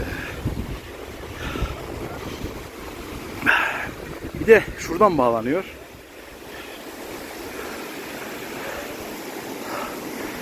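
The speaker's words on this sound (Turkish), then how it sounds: "İşte ta uzaklardan arabanın yanından gördüğümüz şelale ahanda burası." A small mountain waterfall on Koç Mountain at Erciyes rushes in a steady broadband wash throughout, with wind buffeting and someone talking over it midway.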